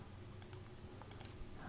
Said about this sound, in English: And I'm just gonna type in here